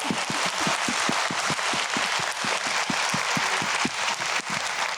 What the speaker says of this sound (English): Can we give Kai another round of applause?